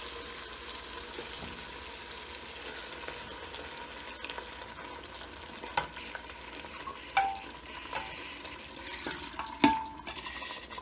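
Chana dal goes into a sizzling pot of meat (chana dal gosht), with a steady low frying hiss, soft stirring and a few sharper clinks and splashes toward the end, no voices.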